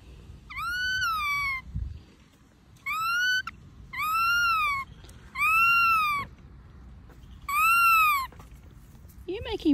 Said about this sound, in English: Making baby bird noises, Charlie.